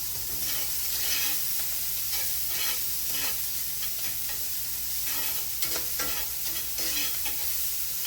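Scallops searing in oil in a hot pan, a steady close sizzle and crackle running the whole time with occasional spatters and stirring, no talk.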